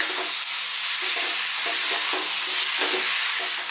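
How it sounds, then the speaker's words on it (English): Rice sizzles and crackles steadily in a hot pan as it is fried with bell pepper, with soft scraping stirs at intervals. The sound is close and continuous, with no talking. "That's the rice frying."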